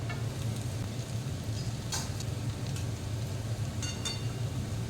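Potatoes sizzle in a pan with a steady, close frying hiss, broken by a couple of brief scraping stirs of a spoon against the metal.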